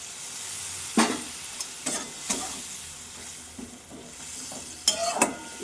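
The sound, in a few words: water added to frying poppy seed stems sizzling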